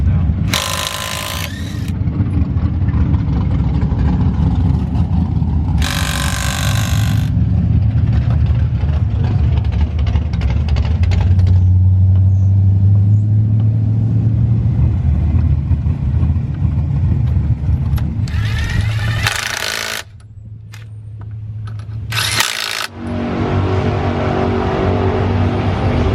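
A Dodge Hellcat drag car at a drag racing event runs a pass, a loud sustained engine roar rising and falling with revving, with short bursts of higher noise and some voices mixed in.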